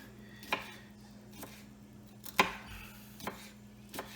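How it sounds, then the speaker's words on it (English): A knife trims the ends off fresh cucumbers on a cutting board, making about five quiet, evenly spaced chops over a low background hum. "I'm just gonna cut the tips off the cucumbers."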